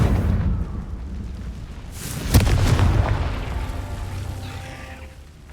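A Confringo blasting spell explodes in the video game Hogwarts Legacy, a single sharp blast landing mid-clip over a steady rumbling game background, then fading into a long, decaying roar.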